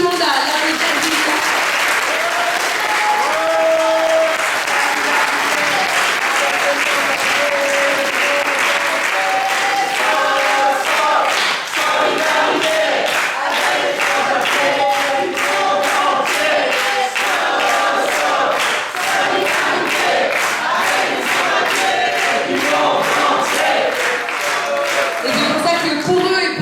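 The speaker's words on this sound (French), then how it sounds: "j'invite tout le monde à l'applaudir." An audience at a political party meeting applauds steadily and loudly for almost half a minute, a dense, even wash of many hands with a few crowd voices mixed in.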